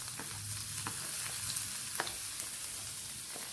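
Sliced ginger fries in hot coconut oil with a steady, close sizzle, broken by a few sharp clicks and scrapes of a spoon against the pan.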